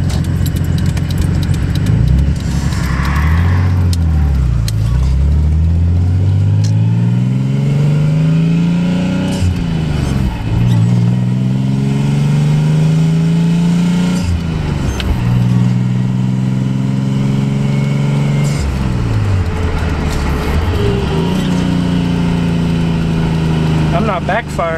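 A Nissan 300ZX engine, freshly repaired after hydrolocking, runs loud and close, rising through repeated revs that climb and fall back roughly every five seconds, with a voice speaking briefly over it.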